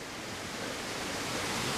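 Water rushing through a mill dam raceway, a steady, full broadband roar with no breaks, close and loud, slowly building slightly over the moment.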